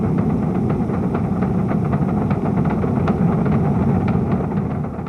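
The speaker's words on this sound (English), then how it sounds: "All engines running." Apollo rocket engines roar at liftoff, a dense, loud, steady rumble that fills the whole clip without a break and with no voices.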